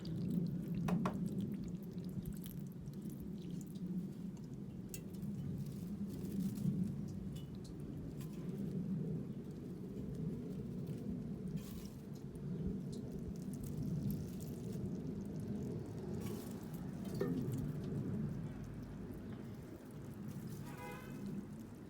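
Water is poured over potted ferns outdoors, giving a soft, continuous trickle with scattered drips and splashes, low and fairly quiet throughout.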